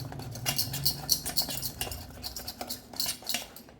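Metal utensil scraping and clinking repeatedly in a pan while cake batter with ghee is stirred, a busy close patter of light taps with no talking.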